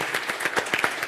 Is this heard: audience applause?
yes